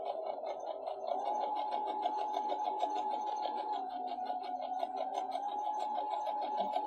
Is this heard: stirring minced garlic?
no